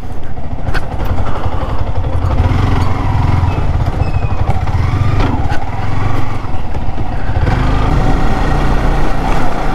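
A Yamaha R15 V3 motorcycle engine runs steadily up close, its loud, continuous rumble idling and revving slightly without pause.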